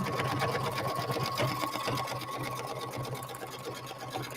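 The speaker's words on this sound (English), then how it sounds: "I'm going to put this camera back up as we finish this stitching." Sewing machine stitching a double layer of fabric on a sweatshirt: a steady, fast mechanical whir with a constant hum that runs unbroken and close throughout.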